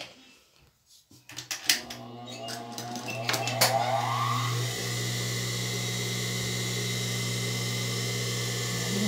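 An electric sewing machine stitches a curtain hem, starting with a few clicks and handling noises before settling into a steady, continuous motor whir that runs close and even to the end.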